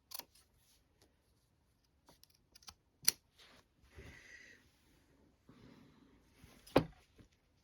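Scissors trimming material for a peeker hood give sparse, close snips and clicks, with two sharper cuts standing out among quiet rustling.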